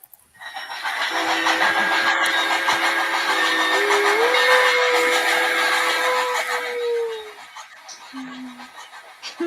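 A steam locomotive's long, loud whistle blows steadily for several seconds, its pitch wavering and sliding before fading, followed by a brief shorter toot.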